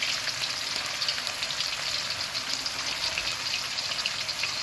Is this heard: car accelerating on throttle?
no